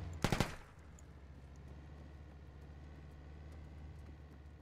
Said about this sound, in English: Why you shooting my man's for, bro?